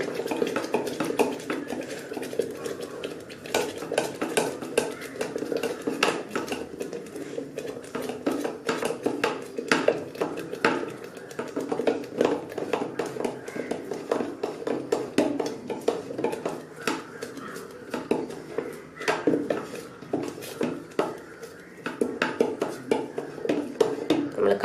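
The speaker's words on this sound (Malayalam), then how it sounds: "നമ്മൾ കണ്ടിന്യൂസ് ആയിട്ട് ഇങ്ങനെ അത് ഇളക്കി കൊടുത്തോണ്ടിരിക്കണം." A spoon stirs baby food inside an electric kettle in a hotel room. It makes continuous rhythmic metallic scraping and light clinks against the pot, close and moderately quiet.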